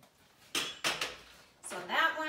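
Plastic and metal spatulas rattle and clack as they are handled in a rotating kitchen utensil holder, with three separate clattering bursts close by and a pause between them.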